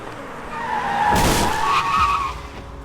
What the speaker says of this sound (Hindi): और अचानक जीत ने गाड़ी के ब्रेक्स मारे।